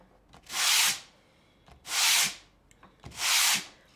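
A wooden door hanger is sanded by hand in three separate strokes, each a loud, close rasping rub lasting about half a second, with short quiet gaps between them.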